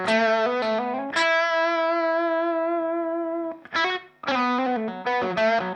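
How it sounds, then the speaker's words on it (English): Electric guitar played through a Tube Screamer overdrive pedal, a soft-clipping overdrive set near unity gain: a few picked notes, then a long sustained distorted chord ringing for about two seconds, followed by more short chords. "I like the sound of a tube screamer."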